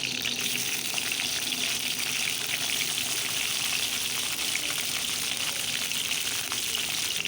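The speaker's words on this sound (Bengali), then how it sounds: "একটা কড়াইতে তেল দিয়ে নুন হলুদ মাখিয়ে রাখা ইলিশ মাছগুলি অল্প ভেজে নেব" Hilsa fish rubbed with salt and turmeric fries in oil in a wok, giving a dense, steady, close sizzle that holds evenly throughout with no voices.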